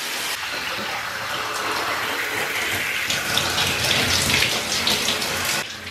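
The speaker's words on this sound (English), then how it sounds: "Gotta shower." Shower water running steadily, a dense continuous hiss and spatter close by, with slight shifts in the spray throughout.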